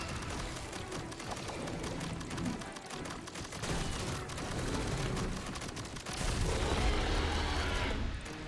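Rapid video-game gunfire in arcade Contra during a multiplayer boss fight, dense bursts of shots and booms rattling continuously, loud and busy with brief shifts in intensity.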